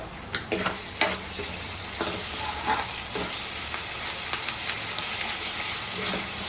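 Onions and ginger paste frying in a pan for a prawn and gongura curry, a continuous close sizzle broken by intermittent spoon scrapes and taps against the pan, with no talking.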